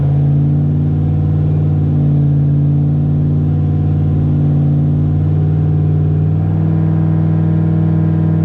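Turbocharged Chevrolet Silverado engine running on a dyno at part throttle, a loud, steady, close droning hum that holds an even pitch throughout and rises slightly near the end, with no talk.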